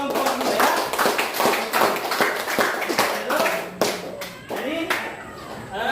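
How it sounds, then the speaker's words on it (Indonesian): Students in an elementary mathematics classroom clap for a group that has just presented, loud, uneven bursts of close hand claps that come in quick rhythmic runs, with children's voices mixed in. "tepuk tangan untuk kelompok dulu ya"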